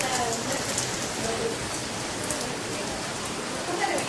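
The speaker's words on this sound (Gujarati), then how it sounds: "વરસાદ ચાલુ થઈ ગયો છે." Heavy rain falling outdoors at a village house, a continuous dense patter and hiss of drops hitting surfaces, steady and close throughout with no talking.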